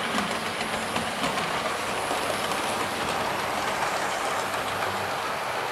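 A model train on a model railway runs non-stop along the back straight through a station, its wheels giving a steady clickety-clack and hiss at close range, with no talk.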